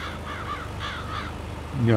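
Ravens cawing in the farming game Landwirtschafts-Simulator 22, a run of harsh repeated caws at moderate distance while someone talks over them throughout.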